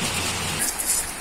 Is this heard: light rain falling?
yes